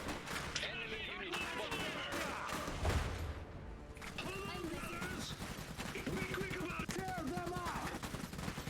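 Battlefield gunfire in the Iron Harvest strategy game: dense volleys of rifle and machine-gun shots crackle continuously, with a heavy boom near the middle, loud and busy, with voices talking under it.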